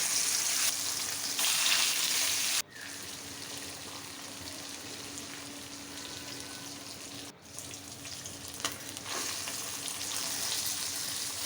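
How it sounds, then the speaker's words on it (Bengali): Pangas river fish frying in soybean oil in a wok, a continuous hiss and crackle close by, steady throughout with two brief drops in level partway through. "কড়াইতে দিয়ে দিলাম সয়াবিন তেল এখন মাছ ভেজে নেব"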